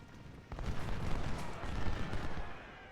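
Artillery fire in the Ultimate General: Civil War video game, a dense rumbling barrage of booms rolling together for a few seconds, fairly loud and continuous with no talking.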